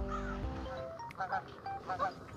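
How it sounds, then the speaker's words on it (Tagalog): A goose honks near a lake on a cool day, with several nasal honks in close succession, fairly near and clear over a steady outdoor background hiss, with no talk. "Ayun may gansa."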